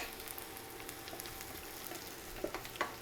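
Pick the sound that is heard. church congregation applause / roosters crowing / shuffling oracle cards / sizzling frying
sizzling frying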